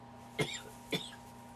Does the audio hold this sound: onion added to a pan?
no